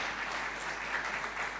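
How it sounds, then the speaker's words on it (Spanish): A church congregation applauding during a sermon, a short burst of dense, steady clapping from many hands. "Aplauda, Norma, si quiere aplaudirlo, porque es para el Señor lo que estamos haciendo"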